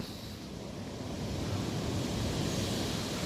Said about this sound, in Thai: ดูครับลมแรงมากครับวันนี้ครับ